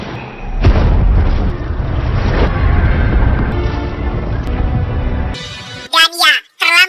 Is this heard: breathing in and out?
no